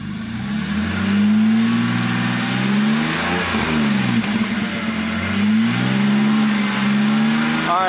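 E90 BMW engine running after a manual transmission swap, revving up and settling repeatedly in a close, steady drone with rising and falling pitch, no talk over it.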